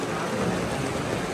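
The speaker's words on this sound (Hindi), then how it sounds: "ओह बारिश हो गई" Steady, dense rain falls outdoors near a Cadillac showroom in the evening, a continuous loud hiss with no breaks or voices.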